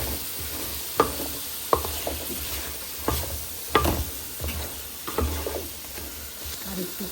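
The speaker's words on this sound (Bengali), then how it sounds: "সিমগুলো কষানো হয়ে গেছে, এখন মাছ দিয়ে দেবো" Broad beans, potato and tomato sizzle in a pan for rui fish curry, with a steady fry hiss broken by several sharp scraping stirs of a spatula, close and moderately loud.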